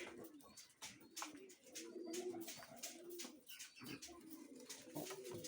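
Pigeons coo steadily and close by in repeated low throaty phrases, with brief chirps and faint wingbeats mixed in and no talking.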